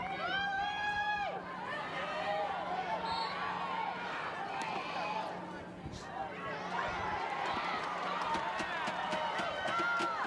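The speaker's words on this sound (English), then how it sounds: "Hear the crowd cheering as Penn State with the ball here." A crowd cheers at a North Carolina vs. Penn State NCAA field hockey semifinal. The cheering stays fairly distant and quiet, with whistles and a commentator's voice talking over it.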